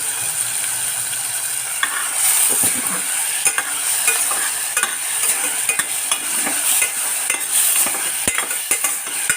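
Ingredients for fish soup sauté in a pan, with a steady close sizzle and frequent scraping and stirring clicks of a spoon running throughout.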